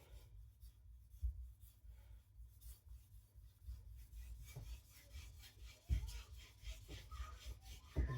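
A knife edge is stroked back and forth on a soft Naniwa Aotoshi green whetstone, giving quiet, close, rhythmic rasping scrapes with a few sharper knocks.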